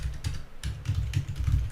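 A few clicks of computer keyboard typing, including a Tab key press while entering a spreadsheet function, sound close and crisp over a low hum.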